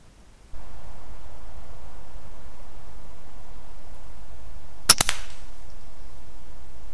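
An FX Dreamline air rifle fires a single sharp, close crack at a grey squirrel from a pop-up hide, followed by a brief tail over a steady background hiss. No one speaks.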